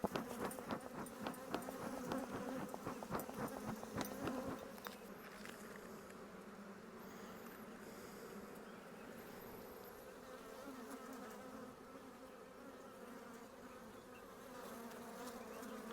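Honeybees buzz in a steady dense drone throughout a hive inspection, louder and busier at first, then settling into a continuous close hum.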